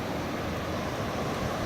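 Ocean waves at a sunny beach give a constant broad wash of surf, steady and fairly loud, with no voices over it.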